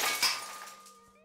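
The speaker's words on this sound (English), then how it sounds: "there's something satisfying about breaking glass" Glass breaks with a bright, close shattering crash, then sharp shards tinkle and ring out as the sound fades over about a second.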